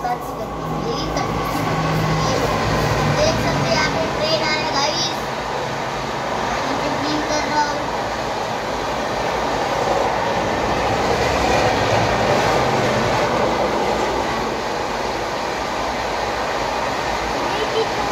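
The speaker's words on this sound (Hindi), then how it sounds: "देख सकते हैं आप ट्रेन आ रहा है" A train rolling past at close range, a steady loud rumble with rail clatter that lasts throughout, while someone talks over it.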